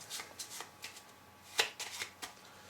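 A deck of playing cards is shuffled up close in a string of quick, crisp riffles and snaps, with one sharper flick in the middle and no talking.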